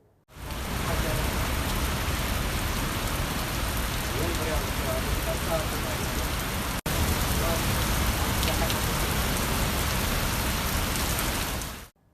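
Heavy rain pours down steadily during flooding in Bihar, a dense, loud hiss holding constant for about eleven seconds with a brief break midway.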